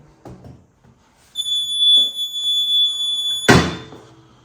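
A shrill electronic side-stand warning buzzer on a TVS Jupiter 125 scooter sounds steadily for about two seconds, close and loud, then a solid thunk cuts in; light clicks and handling noises come before it.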